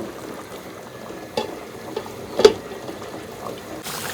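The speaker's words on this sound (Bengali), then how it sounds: "এটাকে কিছুক্ষণ বলক দেওয়ার জন্য রাখবো।" Food simmers in a pot with mustard oil, a low steady bubbling hiss broken by a few soft pops and one sharper bubble burst near the middle.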